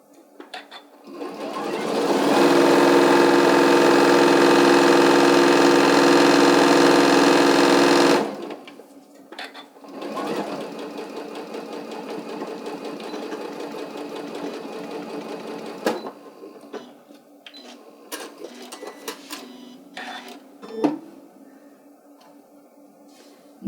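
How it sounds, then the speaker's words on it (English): Sewing machine stitching the red body of a Santa hat at a half-inch seam, a loud steady run of several seconds, then quieter intermittent stitching with stops and bumps. "now I'm going to go ahead and sew the red, the hat part."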